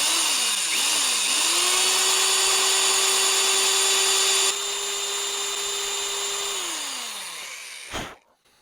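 An old Black & Decker drill whines steadily as it bores holes in the rusted jaws of a Wilton Bullet vise, spinning up with short pitch wobbles before holding a loud, even tone and winding down, followed by a brief clunk.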